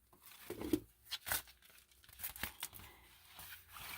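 Junk mail paper envelopes being torn open by hand, a few quick ripping bursts and crinkles close up, alone with no talking.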